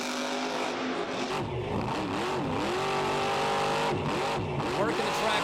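A monster truck engine revs in a stadium arena show, rising and falling in repeated swoops before settling into a held drone, heard under an announcer's commentary.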